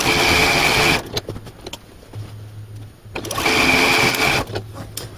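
A sewing machine runs in two loud, steady bursts of stitching along a quilt's outer border, with a quieter pause of handling and faint motor hum between them.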